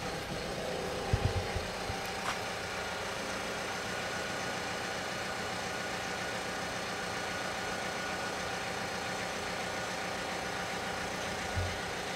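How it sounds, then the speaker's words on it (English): Peugeot Partner 2017 1.6 HDi diesel van idling with a NOx sensor heating circuit fault, a steady low engine hum holding even and unbroken throughout, with a couple of faint clicks near the start and end. "So we'll start the car up"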